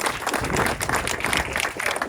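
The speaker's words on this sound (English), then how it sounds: "But give him a round of applause." Dense, steady applause from an audience at a county Young Democrats honoree event, many hands clapping at once in a continuous, fairly loud wash with no talk.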